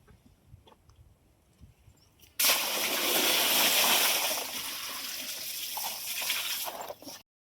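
Water is sprayed onto a heap of freshly harvested vegetables in crates on a farm. After quiet rustling, a loud steady hiss of spray starts abruptly, holds for several seconds, softens slightly, then cuts off.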